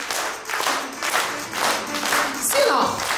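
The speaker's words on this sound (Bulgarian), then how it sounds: "Пляскаме с ръчички, пляскаме силно." Children and parents clap their hands at a first-grade school letters celebration, a rhythmic clapping that rises and falls over music, with voices in the background.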